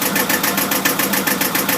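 A sailboat's inboard engine idling steadily and loudly with a regular rhythmic chug, close by, no voices, on a Shannon 28 cutter-rig sailboat.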